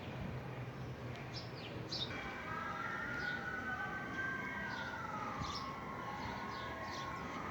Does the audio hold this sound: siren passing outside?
yes